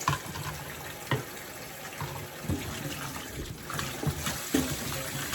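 Tap water runs steadily into a sink while squash from a garden harvest is washed, a continuous trickling flow with a few soft knocks and splashes, fairly close and with no talking.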